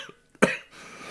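A man coughs once, sharp and close into a microphone during an online talk-show episode, followed by a faint breathy tail and quiet room noise.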